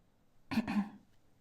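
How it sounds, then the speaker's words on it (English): A single dry cough or throat clearing in an audiobook reading, two close rough bursts lasting about half a second, fairly soft against a quiet background. "Shen Qingqiu coughed dryly"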